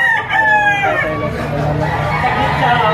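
A young rooster (stag) crows loudly at a poultry auction market in Lipa, giving one long, drawn-out call over a busy background of other fowl and crowd chatter.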